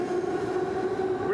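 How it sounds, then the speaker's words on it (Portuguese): A metro train runs in a subway station of the Tashkent metro in Uzbekistan, giving a steady, fairly loud electric whine and rumble that rises slightly in pitch at the end. "Brezhnev deu para o Uzbequistão esse metrô"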